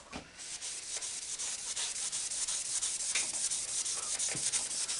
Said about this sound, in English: see how well this surface rust is going to come off with a bit of Scotch-Brite